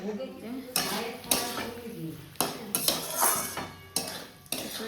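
Spices being stir-fried in a pan for a jackfruit and prawn curry, with a spatula scraping and clanking against the metal in repeated sharp strokes, close and fairly loud, over a faint background sizzle.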